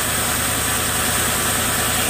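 A Land Rover engine idles close by with the idle set slightly lower, a steady, even mechanical rumble with a faint high whine, loud and continuous with no talking.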